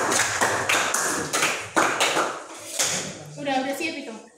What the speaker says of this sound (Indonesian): terima kasih untuk kelompok 3, berikan aplaus